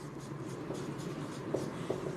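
A pen scratches across paper while a math problem is worked out, faint and close, a continuous soft scribble with a couple of light taps.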